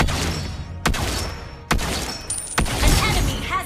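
Three sharp, loud gunshots from Lesley, a sniper hero in the mobile game Mobile Legends, ring out about a second apart, each with a bright crack and short ringing tail, with no talk.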